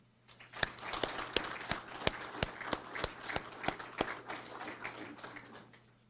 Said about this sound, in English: Let's give all of our family and friends the round of applause that they deserve.